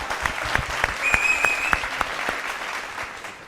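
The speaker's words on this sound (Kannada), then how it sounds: "ಸೊ ಅವರಿಗೂ ಚಪ್ಪಾಳೆ ಬರಬೇಕು" Studio audience clapping for the accompanying musicians on a televised singing reality show, with separate sharp claps standing out over a steady patter and a brief high whistle-like tone in the middle.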